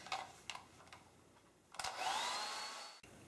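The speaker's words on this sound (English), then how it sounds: "I'm ready to blow dry" A dusty old Vidal Sassoon hair dryer switches on after a few faint knocks and blows in a steady, loud, close whine for a little over a second before cutting off abruptly.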